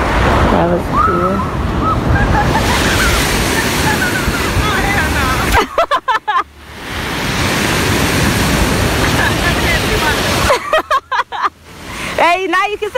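Ocean waves break on a Pensacola beach in a loud, continuous roar of surf, with wind buffeting the microphone and brief dips between surges.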